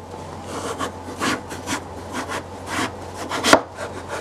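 Sharp kitchen knife slicing vegetables on a cutting board for gluten-free vegetarian lasagna, a series of soft close cuts and scrapes in an uneven rhythm, ending with one crisp louder chop.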